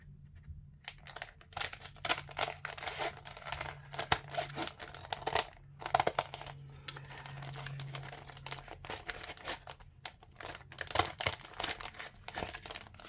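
Scissors cut through paper for an Easter junk journal, giving a run of close crisp snips and rustling crinkles that come in uneven bursts with short pauses, and nobody speaks.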